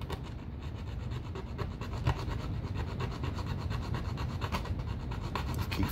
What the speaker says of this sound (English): just take your file and just file that down.